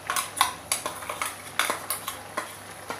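A spoon scrapes and knocks in a metal pot as ground spice paste is stirred into boiled cabbage for cabbage kuruma, giving a steady run of close, clinking stirs over a low hum, with no talk.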